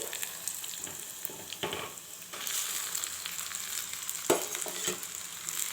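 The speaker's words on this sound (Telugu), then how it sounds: "ఇప్పుడు చక్కగా సేమియా మొత్తం కలిసేలాగా చక్కగా కలిపేసుకోవాలి" Vermicelli upma being stirred in a pan gives a soft continuous sizzle with scraping spoon strokes and a sharper clack near the end, close and fairly quiet, without voices.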